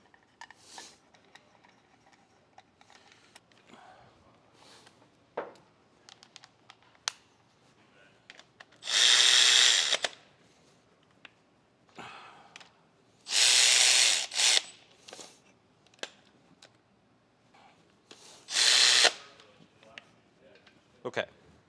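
A ratchet tightens the pulley bolts on a Subaru EJ25 engine rebuild, with three short, loud bursts of rapid clicking and scattered clinks of tools between them.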